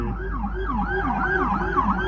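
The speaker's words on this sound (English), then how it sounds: "The siren started right when I pulled up to the light" A fire truck's wailing emergency siren sweeps up and down repeatedly, loud and close, over a low engine hum.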